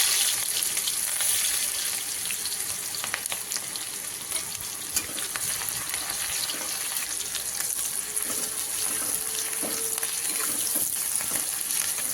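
Onion tipped into hot oil with mustard seeds sizzles and crackles steadily and close, a continuous bright frying hiss with scattered pops, no voices, while making aloo vada.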